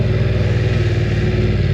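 A BMW F900 R motorcycle engine roars loudly and steadily up close, a dense, deep rumble that holds constant throughout with no voices.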